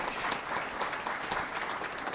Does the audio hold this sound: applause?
yes